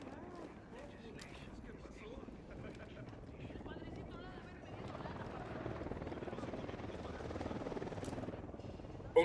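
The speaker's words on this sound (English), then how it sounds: "Unidad chopper, stay low." A helicopter in the video game Ghost Recon Wildlands drones with a steady rotor thrum that swells slightly louder over several seconds, with game ambience and dialogue voices mixed underneath.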